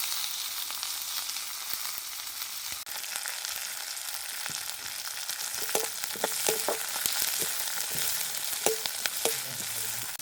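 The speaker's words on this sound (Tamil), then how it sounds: "எண்ணெய் சூடாகிட்டு நான் எடுத்து வச்சுருக்கிற வெங்காயம் பச்சை மிளகாய் அதோட கடுகு சீரகம் எல்லாமே சேர்த்து இதுக்குள்ளே போடுறேன்." Onion, green chili, mustard seeds and cumin fry in hot oil with a continuous loud sizzle, and sharp crackles and pops grow more frequent toward the end.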